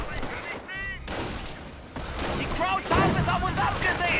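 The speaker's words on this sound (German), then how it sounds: "Feindbeschuss!" Enemy gunfire crackles in Company of Heroes (Tales of Valor, Battle of Cauquigny): sharp overlapping rifle and machine-gun bursts with distant booms, mixed fairly quietly under game voice shouts.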